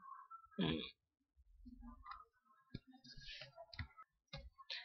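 Mouse clicks on a Windows 8 folder permissions dialog sound as faint, sharp ticks, several spaced irregularly across a few seconds, close and quiet with no talk over them.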